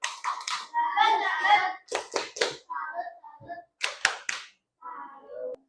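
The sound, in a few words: children doing a clapping salute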